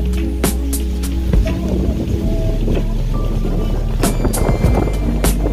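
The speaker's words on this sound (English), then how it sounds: "It is windy out here." Gusty outdoor wind rumbles against the microphone in a garden where sweet potato slips are being planted, a steady low roar with scattered handling clicks and brief knocks, and no speech.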